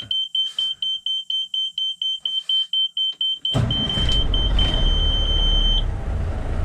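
A fast run of high electronic beeps, then a steady alert tone held over a low engine rumble.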